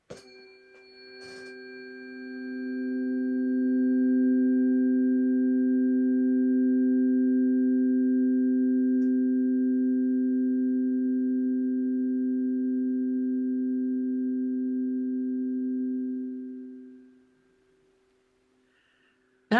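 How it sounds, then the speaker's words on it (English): A tuning fork struck once rings out as a pure, steady tone with faint overtones, swelling in after a brief tap, holding evenly for over ten seconds, then fading away into near silence. "Okay, so I'm going to tap them, and I checked earlier where to point the forks so that you'll be able to hear them better."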